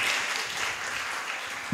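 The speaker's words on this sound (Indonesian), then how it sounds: "Beri tepuk tangan untuk Arinda" Applause from a talk show audience for a guest named Arinda, a short burst of steady, dense clapping that fills the room, with no talking over it.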